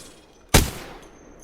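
A single sharp report from a submachine gun fired at a target in Apex Legends, a sudden loud crack that fades quickly into quiet.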